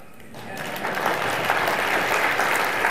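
An audience breaks into applause at a talk, swelling quickly from a few claps into a dense, loud roar of many hands that holds steady.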